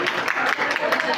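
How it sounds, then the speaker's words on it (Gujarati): Audience clapping to welcome a guest at a Bhagwat katha in Vrindavan, a brief burst of steady applause with a voice speaking over it. "જોરદાર તાળીઓથી એકવાર એમનું સ્વાગત કર્યું"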